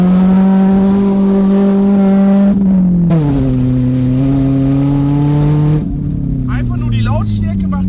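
A car filled with brake fluid in place of engine oil runs very loud, its engine droning and shifting pitch in steady stretches, close up, while people talk over it.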